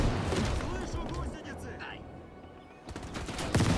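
Artillery and gunfire in the Cold War real-time strategy game Gone Hot 1968, a dense barrage of booms and bursts that eases briefly then swells again, with voices talking over it.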